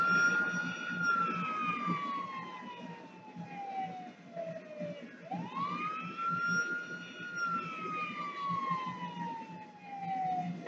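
Ambulance siren in Grand Theft Auto V, a single wailing tone sweeping slowly down and back up at moderate distance, fairly faint over a low rumble of game background noise, with no talk.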